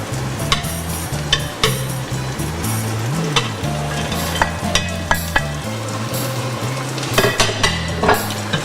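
Beef and its juices get stirred into broad beans in a hot pan for Maltese ful bil-laham: a continuous sizzle and fry under repeated scraping and clattering of a utensil against the pan, close and fairly loud, with no talking.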